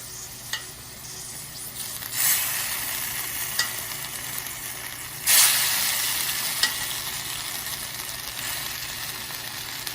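Brown sauce added to a hot pan sizzles in a steady, bright crackle, with two louder surges as liquid hits the metal and a few small utensil taps, moderately close and alone.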